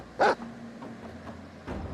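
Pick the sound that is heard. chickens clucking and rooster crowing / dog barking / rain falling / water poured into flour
dog barking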